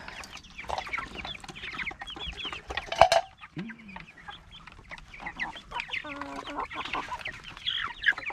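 Several jumbo Cornish cross meat chickens cluck and murmur close by, with a few louder squawks scattered through a busy, continuous stretch of barnyard chatter.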